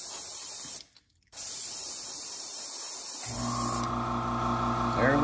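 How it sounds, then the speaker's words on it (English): An air compressor running during spray painting of crankbait fishing lures: a steady loud hiss of spraying air, a brief pause, then the compressor motor kicks on with a low droning hum beneath the hiss. "The compressor will kick back on any minute."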